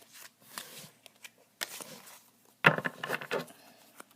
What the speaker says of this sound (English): I shuffle my deck sideways most of the times